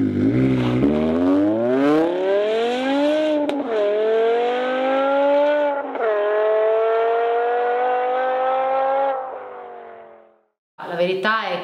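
A BMW M5 engine with its exhaust valves closed revving hard, the pitch climbing steadily and holding at a loud sustained roar for several seconds, then cutting off briefly before picking up again.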